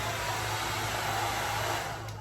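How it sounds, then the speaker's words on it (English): A blow dryer runs on its low setting with a steady, loud, close-up whirring roar that holds without a break the whole time and eases slightly near the end. "It has like a tube that I just plug my blow dryer into, and I put it on low"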